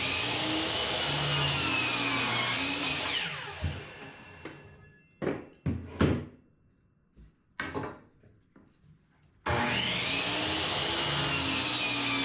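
A compound miter saw cuts wood at 45 degrees: the motor whines loudly and spins down, followed by a few sharp knocks and clatters of wood being handled, then the saw spins up loudly again.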